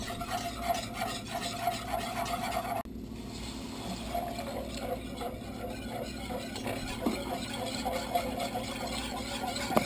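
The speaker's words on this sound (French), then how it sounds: "Je réalise une béchamel." Béchamel sauce is stirred in a pan, giving a continuous close-up scraping and swishing with a faint bubbling sizzle underneath. It runs steadily throughout with no voices.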